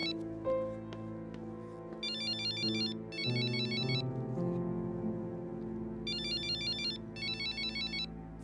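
A mobile phone left behind rings unanswered in a dubbed Turkish drama, a repeating electronic ringtone melody in bursts with short pauses, clear and steady, with no talking over it.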